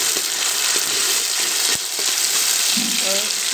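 Chopped tomato frying in hot oil with spices for an eggplant and potato dish, giving a steady, loud close sizzle throughout with a few faint stirring clinks near the end.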